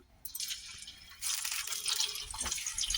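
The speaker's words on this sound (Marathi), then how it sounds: "आता हिला पण आपण तेलात फ्राय करून घेऊया" Washed cauliflower florets frying in hot oil for a potato, pea and cauliflower curry give a soft sizzle that swells into a steady, close crackling hiss partway through, with no talking.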